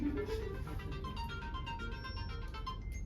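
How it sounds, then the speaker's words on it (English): A mobile phone rings with an incoming call, a steady repeating electronic ringtone melody carrying on for about three seconds without any talking over it. "Wow, people calling me on my phone, sorry."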